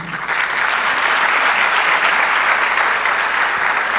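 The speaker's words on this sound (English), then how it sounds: "Keep clapping." Audience applause at a medical and dental practitioners' induction ceremony, a dense, steady wash of clapping that starts almost at once and holds at an even, fairly loud level throughout, with no voices over it.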